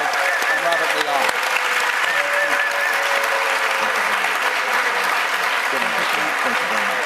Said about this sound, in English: A big round of applause for both of them.